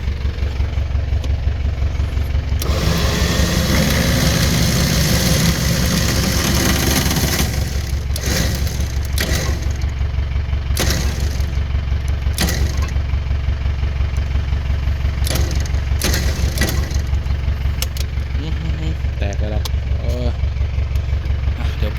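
A Nissan Big-M pickup engine idles in a loud, steady low rumble throughout, with people talking over it at times.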